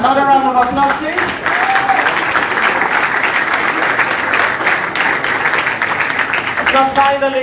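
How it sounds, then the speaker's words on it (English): A crowd applauds steadily for several seconds, dense clapping filling the space, with a voice speaking briefly at the start and again at the end. "Another round of applause, please."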